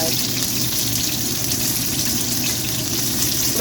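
Beef brisket sizzling in a pan, a steady dense crackle and hiss of hot fat spitting throughout, close and continuous, with no pauses.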